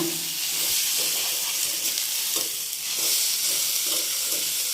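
Onions with salt, chilli and spices sizzle and hiss steadily in a frying pan while being stirred, with occasional soft scraping strokes over the continuous frying noise, close and fairly loud.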